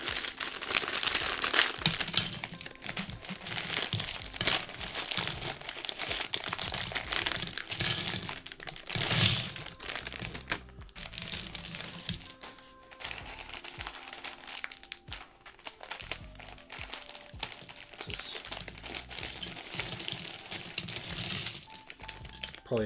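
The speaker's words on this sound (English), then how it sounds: "All the clicks, the clickety clacks, the noises." Plastic LumiBricks building bricks click and clack steadily while an antique store model is assembled, a close, dense run of small taps, snaps and crinkly rustles with a sharper burst near the middle.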